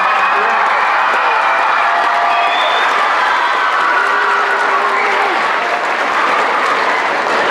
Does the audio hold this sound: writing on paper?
no